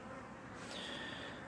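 Bees buzz around a cane sugar feeder near a hive outdoors, a close continuous drone with one insect passing near in a brief rising whine.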